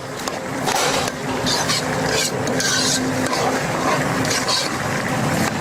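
Rice with boiled eggs frying in a pan for a ghee rice dinner, stirred steadily, giving a continuous close scraping and sizzling texture with no talk over it.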